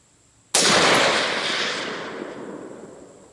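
A single rifle shot on an outdoor shooting course, a sharp loud crack followed by a long fading rumble of echo, with no talk.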